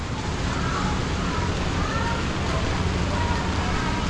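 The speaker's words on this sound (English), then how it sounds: "It's really raining right now too, so might have some flooding." Steady dense rain pours on a Macau street, a constant broadband wash of drops with no breaks, loud and close throughout.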